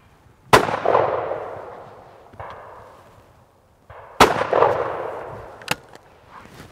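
Shotgun blasts at sporting clay targets ring out outdoors, two loud, sharp reports a few seconds apart, each followed by a long decaying rumble, with a fainter crack after the second.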